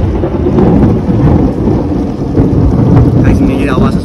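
A heavy thunderstorm pours rain onto a flooded rooftop, with a loud, close, continuous wash of rain over deep rumbling thunder.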